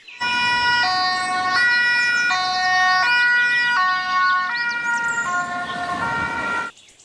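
A toy ambulance plays its electronic siren, a bright, close wailing tone stepping up and down in repeated cycles for about seven seconds before cutting off.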